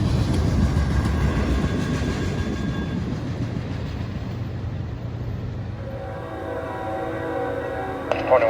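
CSX freight train Q142, led by CSX 3084 northbound, rumbles past close by with a steady low roar and faint wheel clatter. The noise eases slightly toward the end, and a brief squeal or horn-like tone rises at the close.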